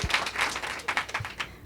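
An audience at a romance-novel book panel claps in scattered, uneven bursts, fairly light and thinning toward the end, with no voices over it.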